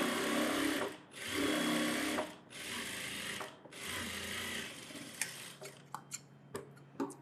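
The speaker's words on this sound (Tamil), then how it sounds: "கரெக்டாக அந்த மார்க் மேலே தைக்கிறேன், சரியா?" A sewing machine stitches an umbrella frock along a marked line, running in long steady whirring bursts with brief pauses between them, then ending in a few scattered ticks and clicks.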